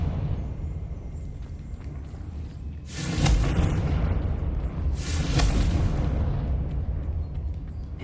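A Confringo blasting curse in the Hogwarts Legacy video game, two deep booming explosions about two seconds apart, each with a crackling burst over a low rumble, loud against a steady ambient game hum.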